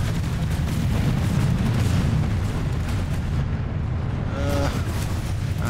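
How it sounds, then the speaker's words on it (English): Tank cannons fire on infantry in the Planetside 2 video game, making a loud, continuous barrage of booming blasts and rumbling explosions with no let-up. "You stupid tankers are shooting your own infantry."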